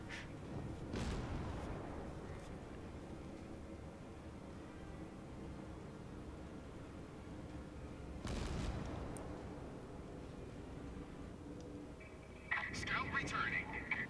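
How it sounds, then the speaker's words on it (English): Kongo battleship guns firing in World of Warships: two heavy, booming broadband salvos, one early and one around the middle, rumbling over a steady low background, followed by a brighter burst of crackling noise near the end. "I'm watching the ship fire."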